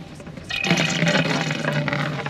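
Water bursts out of an RV water line being blown out with air for winterizing, a sudden hissing spray, splashing steadily and close by for a couple of seconds.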